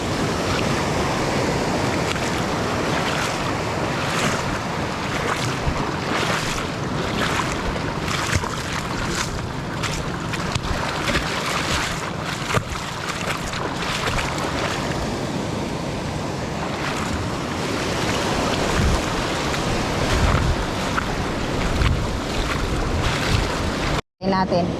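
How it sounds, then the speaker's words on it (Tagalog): Big ocean waves crash at a rocky shore in a loud, sustained roar, with gusting wind noise and repeated surges of surf. A voice speaks briefly under the din, and the sound cuts off abruptly at the end. "Mas malalaki yung alon."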